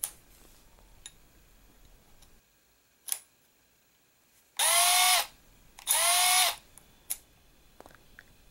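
Two loud bursts of an impact drill whirring, fitted with a cable-stripping attachment for BX armored cable, each about half a second long, separated by a brief pause, with faint clicks and ticks around them.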